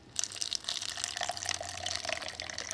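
Water pours steadily onto a houseplant's moss pole, a close, continuous splashing trickle that runs for a few seconds with no talk.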